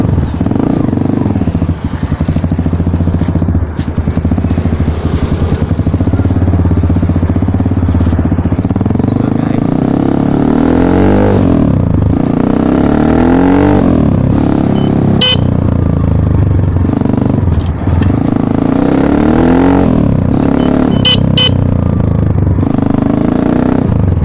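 An Asian Beast dirt bike from 2018 runs loud and close, its engine rising and falling through repeated revs, with brief high clatter and squeaks between.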